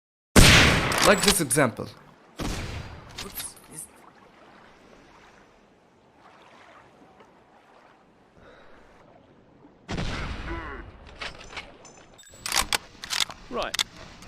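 Rifle fire in the tactical shooter game Hidden & Dangerous 2: loud, sharp shots come in bursts at the start and again near the end, with a quieter stretch in between and someone speaking briefly.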